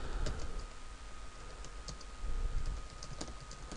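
Typing on a computer keyboard while entering text into a document editor: quick, irregular clicks and key taps, moderately close, over a steady low hum with no talking.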